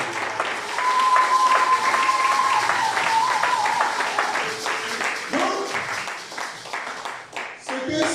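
A congregation at a French-language church service applauds, with sustained, dense clapping filling the whole stretch, mixed with voices and some tonal sound in the background.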